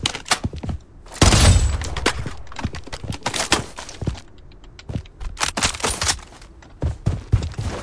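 Gunfire in the PC battle royale game Bloodstrike, with rapid bursts of sharp cracking shots, a heavy close blast near the start, and continuing volleys of varying loudness throughout.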